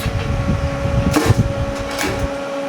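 A laser cutter's exhaust fan runs with the lid open, a steady whirring hum with a tonal drone, joined by a few brief clunks and rustles near the machine.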